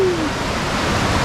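Whitewater on a river near Lake Manapori, New Zealand, roars steadily up close, while a brief falling whistle-like tone sounds at the very start above the constant rush.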